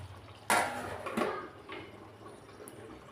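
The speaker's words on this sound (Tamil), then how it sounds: "மறுபடியும் மூடி வச்சிடலாம்." A lid is set back onto a cooking pot of kuzhambu with a sharp, close metallic clank, followed by a second lighter knock and a soft rattle fading into quiet kitchen background.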